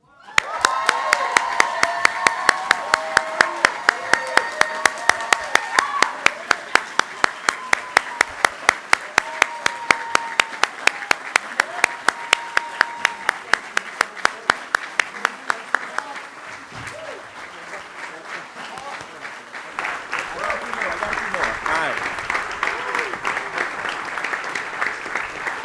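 A crowd at a stadium naming announcement for FIU Football claps in loud, rhythmic unison, beat after beat, under a voice over a public address system, then breaks into looser scattered applause and cheering near the end.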